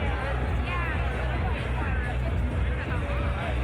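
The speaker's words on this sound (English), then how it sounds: "And the crowd goes wild." Dense crowd noise filling a roller derby bout venue, a steady roar of voices and cheering with an announcer talking over the hubbub throughout.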